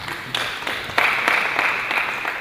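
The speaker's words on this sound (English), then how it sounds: "A round of applause to him." An audience in a hall at an annual pharmacy students' association event gives a short round of applause, a soft wash of clapping that swells after a moment and carries on steadily.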